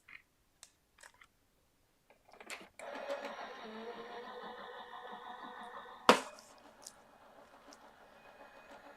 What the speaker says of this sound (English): I'm going to place that down with some mint tape and run it through my die cut machine